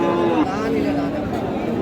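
A cow at a cattle market lets out a short, loud, close moo at the start, with a busy crowd chattering around it throughout.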